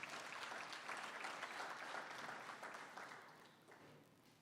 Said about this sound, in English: Please give another round of applause for Mr.